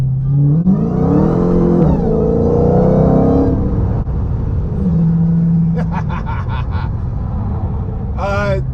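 A widebody Dodge Challenger Hellcat running 102-octane fuel revs hard up close, its loud engine rising and falling in pitch through several pulls and then easing off into a lower rumble, with voices briefly audible.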